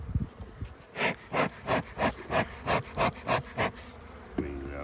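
Honeybees from an opened nuc hive give a steady buzzing that swells and fades in an even pulsing rhythm, close and moderately loud, with no talking.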